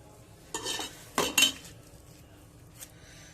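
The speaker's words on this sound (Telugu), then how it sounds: "వంకాయ పచ్చడిలో కొంచెం రైస్ ఈ రోట్లో వేసి కలుపుతాము" Hand mixing rice into brinjal chutney in a stone mortar, giving a few short scraping, clattering knocks in a quiet room, with two louder bursts close together and a faint one later.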